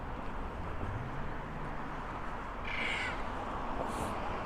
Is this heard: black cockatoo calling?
yes